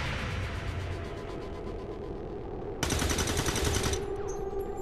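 Pistol shots fired in X-COM 2: War of the Chosen: a dense, rapid burst of gunfire lasting about a second, loud over a steady game background rumble.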